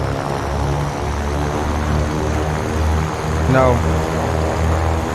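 The twin propeller engines of a C414AW Chancellor drone steadily during a pre-flight run-up in Microsoft Flight Simulator, with the props pushed full forward. A voice speaks briefly over the continuous engine noise.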